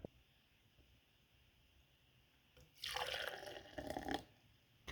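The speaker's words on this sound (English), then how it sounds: "We're going to go ahead and pour our espresso in there." Espresso poured into a single-walled OXO Good Grips cocktail shaker, a short splashing liquid pour of about a second and a half, close and fairly loud against a quiet room.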